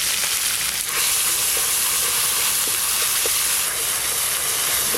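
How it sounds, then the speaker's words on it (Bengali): Ground spice paste of ginger, cumin, dried chilli and radhuni with turmeric sizzles and fries steadily in hot oil, a loud continuous crackling hiss with a few faint stirring scrapes. "এই যে মশলাটা খুব ভালো করে নেড়ে নিয়েছি গরম তেলে"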